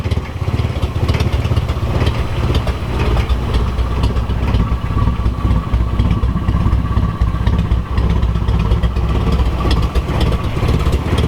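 An old Nissan 240SX engine idles loudly and roughly with a steady, uneven chugging rumble that continues without pause, close by and with no one talking.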